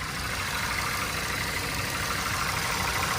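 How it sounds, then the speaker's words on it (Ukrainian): A Ford Fusion engine idles steadily and continuously, with a low rumble and even broadband hum throughout, no voices. "вроді би двигун гарно працює"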